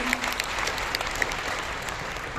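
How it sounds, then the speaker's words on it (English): Audience applause at an IIT Bombay E-Summit talk, a steady spread of clapping from a hall crowd that fills the short stretch at moderate level. "I think that deserves a bigger round of applause for the higher purpose he's serving."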